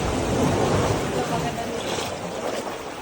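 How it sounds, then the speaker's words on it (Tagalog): Strong ocean waves surge and wash through a cave in the Philippines, a loud broadband roar that swells and eases, with wind buffeting the microphone. "Lakas ng alon."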